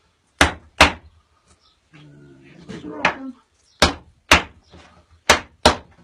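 Doors on a woodworking cabinet in a workshop are shut one after another, giving seven sharp, loud bangs in uneven pairs with a brief stretch of quiet mumbling and handling noise between them.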